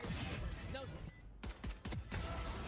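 Gunfire in a Valorant professional match, sharp rapid shots in quick clusters with mixed game effects and crowd noise, heard alone without talk.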